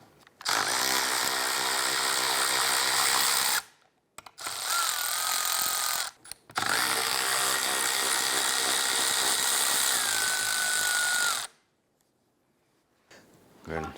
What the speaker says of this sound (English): Using a 15mm socket, we're going to go ahead and remove these 3 nuts holding the ball joint to the control arm.